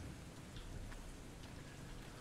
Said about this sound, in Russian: Вот и дождь пошел.